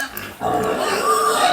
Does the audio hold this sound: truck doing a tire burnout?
no